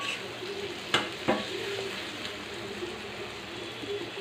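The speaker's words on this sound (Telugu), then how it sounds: "ఉల్లిపాయ, పచ్చిమిరకాయ తిప్పుకున్నాము. ఇది ఎర్రగా రావాలండి, బ్రౌన్ కలర్లోకి వచ్చేదాకా వేపుకున్నాము." Chopped onions and green chillies frying in a pan for chicken fry, a soft continuous sizzle with a couple of sharp scrapes of the spoon stirring, no talking.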